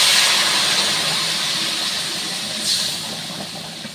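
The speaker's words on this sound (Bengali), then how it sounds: "আগে থেকে গরম জল করে রাখা ছিল, এটা এখন কড়াইয়ে ঢালা হবে।" Pre-heated hot water pours into a kadai with a broad, rushing hiss that is loud at first and slowly fades, ending in a softer steamy wash; no voices.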